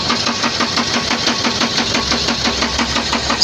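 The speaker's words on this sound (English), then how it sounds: "My engine is cranking but not starting." A JCB backhoe loader engine cranks but won't start, a loud, close, rapid rhythmic chugging of the starter turning the engine over steadily without catching.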